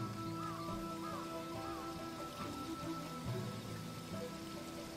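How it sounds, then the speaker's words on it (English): Rain falls in the rice-farming game Sakuna: Of Rice and Ruin as a quiet, steady patter, with soft game music and tones over it. "Unfortunately, it's raining."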